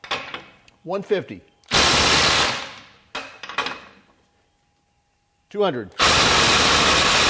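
A Ryobi impact driver hammering on a 1/4-inch impact adapter until it snaps: two loud bursts of rapid impacts separated by short spoken counts, with silence before the final burst.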